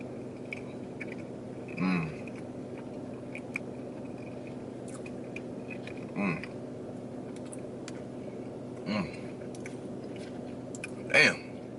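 Someone chews a Biscoff cupcake with soft, moist mouth sounds close to the mic, marked by a few louder bites spaced several seconds apart over a low background hum.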